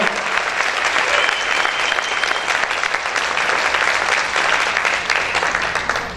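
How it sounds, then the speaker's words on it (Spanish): A church congregation claps together in loud, steady, sustained applause during a worship service, filling the room without a break. "Dale ese fuerte aplauso al Señor."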